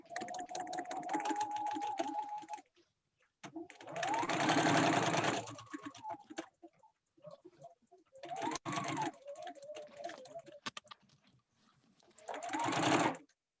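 A sewing machine stitching a paper piecing quilt block, running in several fast bursts of a few seconds each with brief pauses, close and clear, a voice speaking faintly in a gap.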